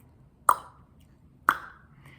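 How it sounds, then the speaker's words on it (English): Two sharp tongue-suction pops, the tongue snapping down from the palate, a second apart, each a crisp close click alone in a quiet room. "you're going to do a popping, clicking sound"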